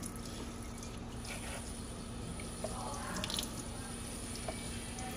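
A steady stream of water runs from a sink hose while hair is rinsed, a continuous close splashing flow with a few brief drips and spatters throughout.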